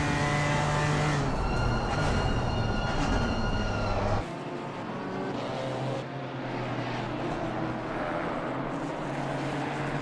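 Onboard a BMW GT4 race car at Indianapolis Motor Speedway, the engine roars loud and continuous, its pitch shifting, then drops abruptly as the driver lifts off the throttle.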